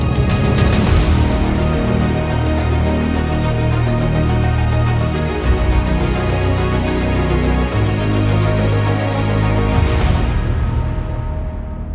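A BMW M3 Competition's engine and exhaust roar loud and close for the whole stretch, with sharp bursts near the start and again near the end.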